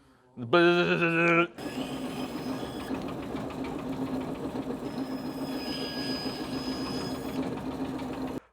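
A steady mechanical whirring and grinding runs for several seconds after a brief tonal hum, loud and continuous, a saw motor cutting through foam.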